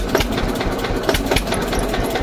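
An Eicher 241 tractor engine idles just after starting, a close, loud, steady low chugging with a rhythmic knock repeating throughout, no voices over it.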